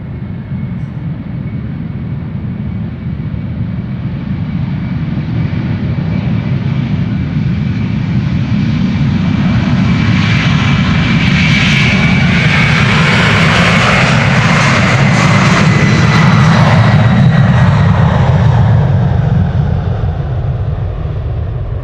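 Loud, continuous jet engine roar of a departing airliner at Amsterdam Schiphol Airport swells and builds in intensity, a broad rushing drone with a rising whine, heard close up.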